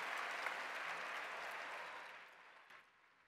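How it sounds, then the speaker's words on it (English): Applause from a large audience at the National FFA Convention opening session: a steady, dense wash of clapping heard from a distance that slowly fades out. "Let's give them a huge round of applause."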